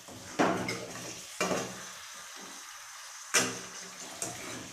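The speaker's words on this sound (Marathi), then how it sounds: "मासे टाकून आता सगळं मिक्स करून घेऊ।" Fish pieces being stirred into masala in a pan for a home-style village fish curry, with a steady sizzle beneath a few sharp spoon scrapes and knocks, close and fairly quiet, no voices.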